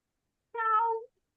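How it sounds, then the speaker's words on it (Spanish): A kitten gives a single short, clear meow, close and alone in an otherwise silent room. "Me gustó mucho tu gatito."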